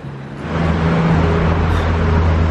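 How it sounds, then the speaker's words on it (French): A Porsche GT3 sports car accelerates past on a Monaco street, its engine rising from quiet to a loud, sustained roar that holds steady nearby. "Ah, GT3. Yes, allez, accélère."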